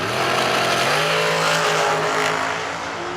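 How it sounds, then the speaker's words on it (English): A 2014 Miller dragster roars down a drag strip at a fall bracket racing event, a loud, sustained high-revving engine note that rises in pitch and then fades slightly toward the end. "Bring up the dragster today, got that baby fixed."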